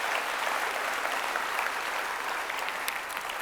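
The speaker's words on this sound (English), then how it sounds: "can you give them all a round of applause?" Audience at a formal debate applauding the speakers, a dense, even wash of many hands clapping that stays steady throughout, heard from within the hall without voices over it.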